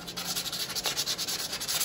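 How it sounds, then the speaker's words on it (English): Rapid, rhythmic back-and-forth sanding of a wooden shime bachi drumstick by hand, a close scratchy rasp repeating in quick even strokes. "We're gonna just get rid of all that by sanding it down."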